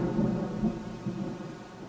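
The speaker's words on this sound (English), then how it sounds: "Well, there's some thunder." Distant thunder rolling in a low, steady rumble that swells slightly and slowly fades over two seconds, heard alone.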